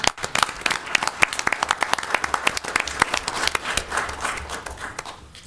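Applause at a Joliet city council meeting, a small group clapping in sharp irregular bursts that thin out and fade toward the end.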